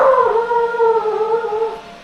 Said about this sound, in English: dog is barking mad out there